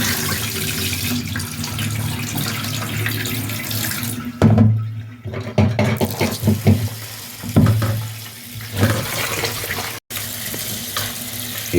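Rice is washed by hand in water for a Jamaican country-style chicken dish, with running and sloshing water, splashes and grains swished about, loud and close, without talk.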